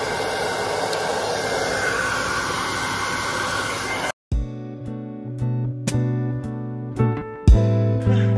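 Hair dryer blowing steadily while drying hair, a loud close whooshing hiss that cuts off abruptly partway through, followed by other quieter tonal sounds.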